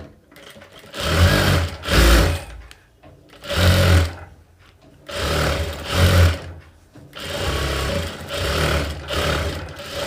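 A sewing machine stitching a princess cut blouse runs in short, loud bursts at close range. About five separate runs are separated by brief pauses, with no talking.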